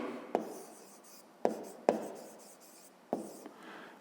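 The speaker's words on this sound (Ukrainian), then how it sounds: "Записуємо тоді так." Pen strokes on paper while working a fifth-grade math exercise, four or five short scratchy taps and scribbles at irregular intervals, close and fairly quiet with no voice.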